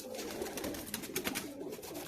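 Pakistani high flyer pigeons in a loft in Kuwait, a steady soft cooing chorus from several birds close by, continuous with no talking.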